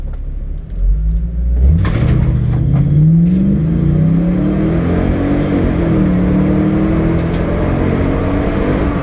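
A Mercedes CLK 430 accelerates hard during a timed run, its V8 engine note climbing loudly and close through rising revs, with a brief dip and shift before pulling strongly again, alone without speech.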